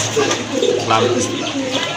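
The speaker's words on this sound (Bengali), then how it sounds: "অনেক ভালো খাকি কবুতর এই যে ভাই, এগুলা।" Khaki pigeons coo softly and repeatedly at close range, their low murmuring calls running steadily through the whole two seconds beneath a constant background hum.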